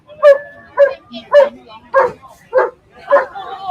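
Labrador rescue dog at an earthquake rescue site in Bangkok barks repeatedly, about seven sharp, close barks in a regular rhythm with short gaps between them.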